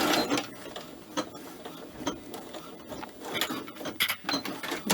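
Serger overlock sewing machine stitching shirt fabric, a steady mechanical whir broken by rapid clicking bursts, running close and fairly loud with no voices.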